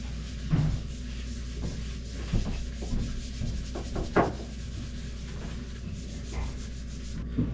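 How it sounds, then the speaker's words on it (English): Paper towels rubbed over a freshly stained wooden table top, a steady soft scrubbing with a few firmer swipes, close and alone. "I can actually just use paper towels to wipe the stain off"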